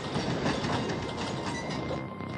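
A train rumbles steadily along the rails with a dense, continuous roar and faint metallic rattling, loud and close, no voices.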